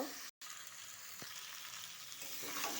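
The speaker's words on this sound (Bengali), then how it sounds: "আবার একটু কষিয়ে নেব।" Pointed gourd and potato curry sautéing in a pan, a faint continuous sizzle with a brief silent gap near the start and light stirring.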